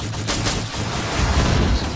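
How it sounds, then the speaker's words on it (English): A rumbling explosion in the ARBS battle game rolls through as a loud, dense, booming wash of noise with crackling bursts, lasting about two seconds. "Explosion!"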